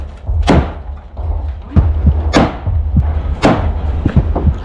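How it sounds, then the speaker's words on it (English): Several grenades explode during house clearing in Ukrainian combat footage, a run of heavy, booming thuds close by, spaced about a second apart, with softer knocks between them. "Several grenades were used for this."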